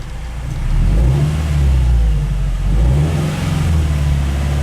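Toyota 86 car engine held at a raised idle of around 2,000 RPM in a driveway, a loud steady hum with slight rises and dips in pitch, heard close and alone without speech.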